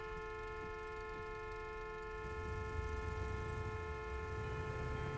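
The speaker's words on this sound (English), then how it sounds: "Don't just sit there honking." A car horn in a taxi driving video game sounds as a sustained, buzzy tone held over a low engine rumble that grows louder partway through, with no talk.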